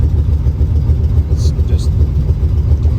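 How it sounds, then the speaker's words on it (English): A Chevrolet Nova, revived after 24 years parked, sits at idle with a loud, deep, steady engine rumble close by, pulsing evenly, with a couple of faint higher-pitched bursts above it. "My foot is off the gas and it's sitting there idle."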